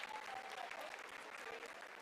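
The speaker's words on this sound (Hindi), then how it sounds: "आप तालियों के गड़गड़ाहट से सुन सकते हैं" Applause fills mission control as Chandrayaan-3 enters its vertical descent toward the lunar landing. Many people clap in a continuous, even roar that holds at a steady level throughout.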